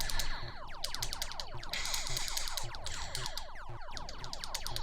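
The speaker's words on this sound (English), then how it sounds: "the incremental speed up of the beeps really gets your heart pumping" Electronic beeps from a 1980 arcade video game pulse in a steady rhythm that gradually quickens, layered over sweeping swooping tones and zaps, loud and close with no talking.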